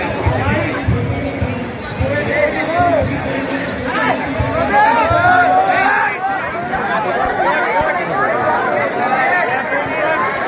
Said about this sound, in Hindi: लेकिन काफ़ी ज़्यादा भीड़ है यहाँ पर